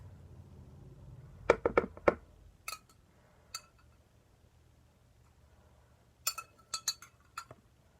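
Spoon clinking against a bowl while a Christmas DIY mixture is stirred, a quiet cluster of quick metallic taps followed by a pause, then another short run of clinks, close and alone.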